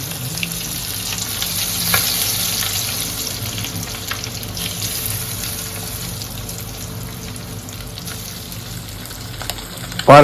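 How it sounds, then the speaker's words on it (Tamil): Eggs for egg 65 crackle and sizzle steadily as they deep-fry in hot oil, a continuous close frying hiss with no voices. "இப்போ அந்த முட்டை 65 பொரிக்க போகிறோம்."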